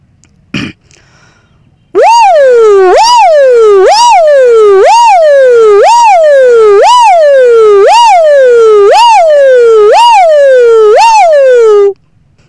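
A voice imitates a fire engine siren, a loud wailing rise-and-fall repeated about ten times in a steady rhythm, preceded by a brief throat sound.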